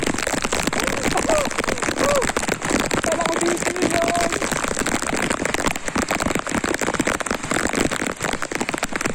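Heavy rain pours down steadily in a dense, loud hiss, with a few faint chirps and voices briefly audible beneath the downpour.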